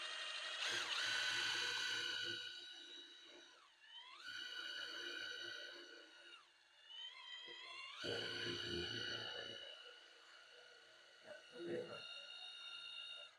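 A power drill whines at high pitch and bites into metal, its tone rising and falling as it slows and speeds up, close and steady.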